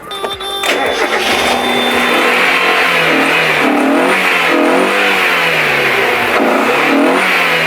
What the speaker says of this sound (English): we're just going to hold a torch to the tailpipe while we rev it